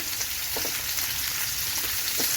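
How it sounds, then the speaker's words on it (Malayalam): Chicken pieces frying in a pan and being turned over, giving a steady close sizzle with a few soft clicks as they are shifted around. "നമുക്ക് ഇതിങ്ങനെ അങ്ങോട്ടും ഇങ്ങോട്ടുമൊക്കെ മാറ്റി തിരിച്ചും മറിച്ചും ഇട്ട് ഫ്രൈ ചെയ്തെടുക്കാം"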